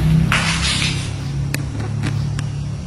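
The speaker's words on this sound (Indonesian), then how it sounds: "Ini masih ada suara kendaraan karena memang pinggir jalan" Road traffic passing outside a roadside house, a loud continuous low rumble of vehicles with a few brief sharp clicks, heard from indoors.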